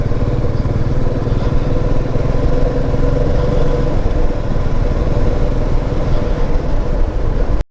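A motorcycle on a long highway ride toward Munsyari runs continuously with a steady, rumbling engine drone and road noise, loud and close, cutting off abruptly at the end.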